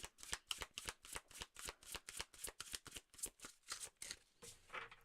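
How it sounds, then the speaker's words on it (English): A big deck of tarot cards being riffled and shuffled in quick, rhythmic bursts, close and crisp, repeating steadily with no speech over it. "yes, I can shuffle really big decks"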